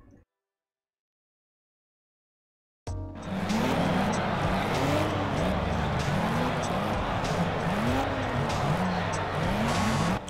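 Racing cars streaming past in the video game Project Cars, beginning abruptly after near silence, with a steady engine roar and rising and falling whines as several cars go by one after another.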